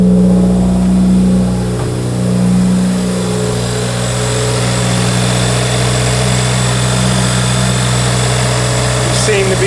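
A Subaru car engine idles steadily up close, giving a constant low hum and rumble with a smooth, even drone that runs without a break.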